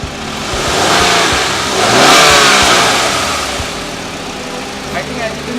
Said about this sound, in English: the voice of the engine